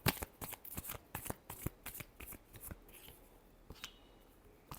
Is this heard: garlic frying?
no